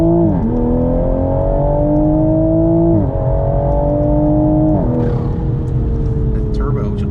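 A modified Toyota GR Supra with JB4 tune, intake and catted downpipe pulls hard from a 10 mph roll, turbo whine rising through steady gears with brief shift dips, then the blow-off valve hisses as it lifts off.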